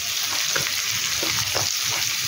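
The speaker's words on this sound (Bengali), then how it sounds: "দেখো এবার আলুগুলো ভেজে নেবো" Potatoes frying in a pan for a vegetarian ghugni, a loud steady hiss of hot oil with occasional soft stirring scrapes and bubbling pops throughout.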